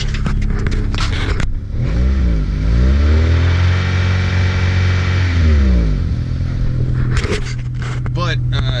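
A 1997 Acura Integra GS exhaust revs up once in a long, rising and falling pull from idle, loud and close, with clattering handling noises before and after.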